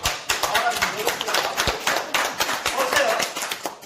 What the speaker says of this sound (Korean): 된다면 박수 쳐